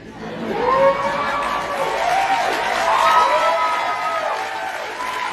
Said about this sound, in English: listen to them whoop and cheer and clap for her